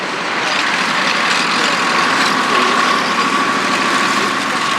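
A WWII tracked vehicle drives past at an outdoor military vehicle display, giving a loud, steady engine roar with a broad rumble that holds evenly for several seconds, close to the listener.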